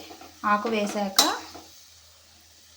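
Fresh green chickpea leaves stirred through hot oil in a pan, giving about a second of scraping and sizzling, then only a faint background hiss.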